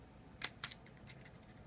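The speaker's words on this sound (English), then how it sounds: "Take your scissors and cut a small triangle" Scissors snip a small triangle into a thin metal insert for a homemade alcohol survival cook stove, giving several sharp, close crisp cuts in quick succession with no talking.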